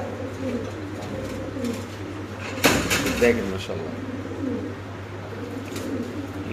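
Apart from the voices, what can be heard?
pigeons cooing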